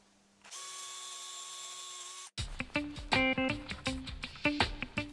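A power drill bores holes through a pool cue case into scrap backing, with a steady high whine at first. After a brief gap comes a rougher, pulsing run of grinding bursts and rattling.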